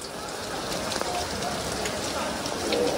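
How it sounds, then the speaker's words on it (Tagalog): Heavy rain pours onto a gazebo roof in a dense, constant patter that stays loud and unbroken throughout. "Ayan, lakas na ng ulan, no? Buti lang na nakapastuhan na kami dito sa gazebo namin."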